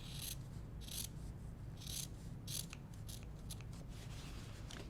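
Scissors trim quilting fabric for a strippy zipper pouch, giving a few quick, close, faint snips and rustles in a quiet room.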